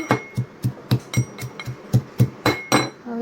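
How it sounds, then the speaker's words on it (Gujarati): Garlic pounded in a mortar with a pestle gives about a dozen sharp, evenly spaced knocks with a slight ringing clink, close and loud, with no talking. "આપણે લસણને ટીચી નાખીશું ખાંડણીમાં."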